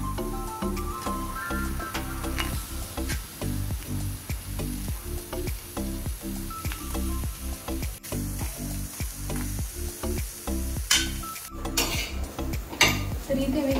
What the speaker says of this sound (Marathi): तर तवा गरम झालेला आहे, त्याच्यामध्ये मी कट केलेला कांदा टाकून घेणार